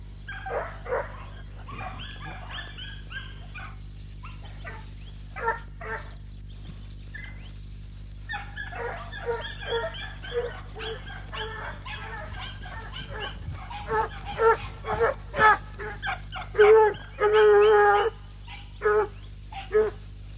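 A tricolour hunting dog bays and barks while tracking wild boar outdoors, in scattered bursts of repeated yelps that grow louder and more insistent toward the end, with a faint hum underneath.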